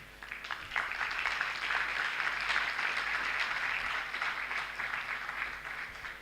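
Audience at an institute's anniversary and induction ceremony claps for an honoree, a fairly distant, even wash of applause that holds steady before thinning toward the end.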